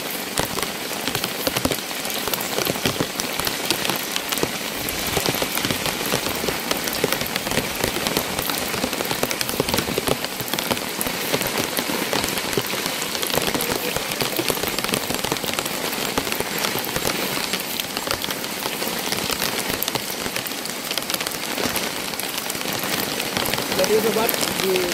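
Heavy rain pouring without pause at night on a camping spot with a tiered hut, a dense, loud, continuous hiss of drops drumming on surfaces throughout.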